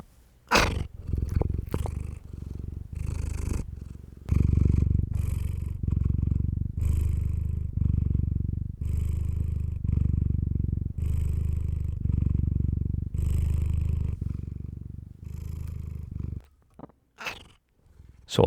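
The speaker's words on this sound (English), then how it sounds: "And that is some purrs from the legendary One Fluff." A cat purrs steadily and close up, a low rumbling rhythm of long pulses that runs for most of the stretch, with a few brief sharper sounds near the end.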